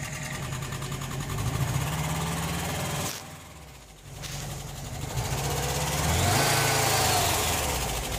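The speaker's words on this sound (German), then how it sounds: "Dann ging der Motor wieder." A motor runs steadily with a droning hum, briefly dropping out for about a second before starting up again and continuing to run.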